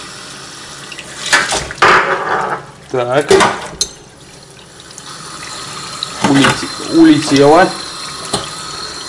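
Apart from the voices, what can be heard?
hot water flowing from pump hose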